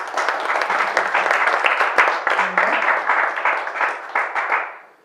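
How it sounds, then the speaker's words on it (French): An audience at a Cameroonian reflection-day gathering claps to welcome a speaker, a dense, steady round of applause from a sizeable crowd, loud and close, then fading out at the end. "Je crois que nous pouvons acclamer sa présence."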